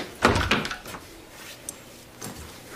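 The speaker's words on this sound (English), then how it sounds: "Close the door." A door in a Western drama shutting with a close wooden thud and rattle. A softer knock and a faint bump follow, with no talking.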